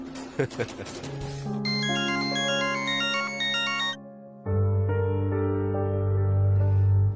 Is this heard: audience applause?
no